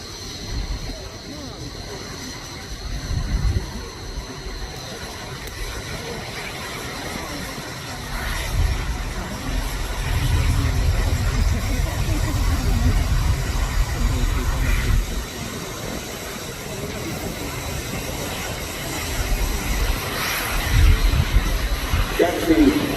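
Red Arrows jets sweep overhead in formation at the Royal International Air Tattoo 2025 airshow, a low, distant roar that swells and fades in waves with faint voices over it.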